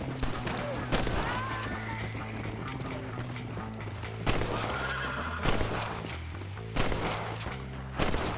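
In Red Dead Redemption, a horse whinnies and snorts while its hooves clip-clop, with sharp cracks of gunfire punctuating the scene at intervals, all at moderate, fairly distant volume.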